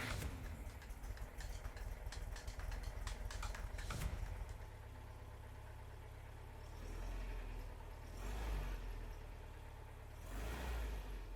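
Air-cooled VW engine fitted with a Bosch 005 distributor, running loud and steady and revving up in several swells near the end, with no voices.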